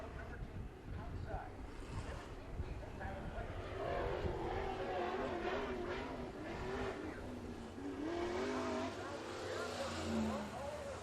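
IMCA Modified race cars roll onto the dirt oval at Bakersfield Speedway for heat races, a sustained engine drone with rising revs over steady crowd and track ambience, with an announcer talking throughout.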